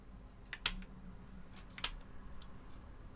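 A blade cuts pink polymer clay with a few faint, sharp clicks and slicing taps against a quiet room-tone background, close and soft, with no talking.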